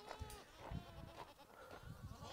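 Goats on a farm bleating several times in short, wavering calls, close and moderately loud over a low background, no voices.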